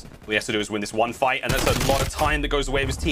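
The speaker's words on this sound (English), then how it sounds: "You can hear the gunshots in the background" Gunfire in a Call of Duty match at a professional esports tournament final crackles as short bursts beneath a fast, excited commentator who talks throughout.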